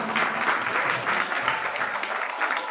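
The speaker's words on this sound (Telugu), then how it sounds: "అందరూ ఒకసారి ఆ చిన్నారులు గట్టిగా చప్పట్లు కూడా" A temple audience claps for child dancers, a brief dense burst of steady applause from a crowd, fairly close.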